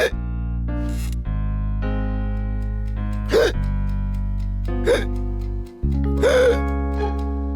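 Hiccups from a Horrid Henry cartoon character, several sharp abrupt hics spaced irregularly over a sustained musical background.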